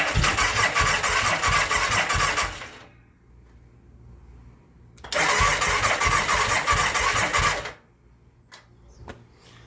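A Kawasaki VN2000 motorcycle engine cranks and catches twice, each start running a few seconds with an uneven flutter before cutting out, loud and close, with silence between attempts and a few faint clicks at the end.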